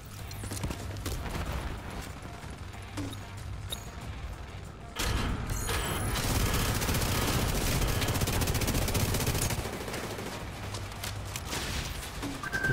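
Rapid gunfire fills a Dark Hours video game match, with bursts of automatic shots over mechanical clatter and background noise that grows denser and louder partway through.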